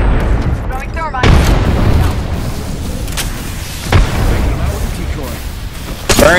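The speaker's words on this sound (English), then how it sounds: "Throwing thermite." A thermite grenade thrown in the Apex Legends battle royale game, with several booming bursts and crackling impacts over a dense backdrop of gameplay noise and voices talking.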